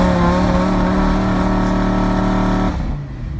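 A Lamborghini Huracan LP610-4 holds high revs in launch control, a loud steady engine drone that drops away near the end.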